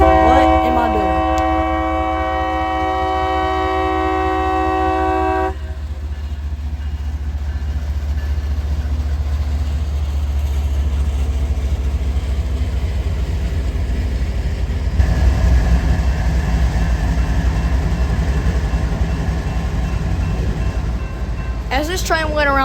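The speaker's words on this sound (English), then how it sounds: "As this train went around the corner," A freight train with a lead locomotive rounds a corner, opening with loud multi-tone horn blasts that give way to a steady heavy rumble and wheel noise, with a short horn burst again at the end.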